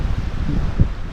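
Wind gusts against a fishing boat out at sea, a steady loud rumbling buffet on the microphone with one brief thump, no voices.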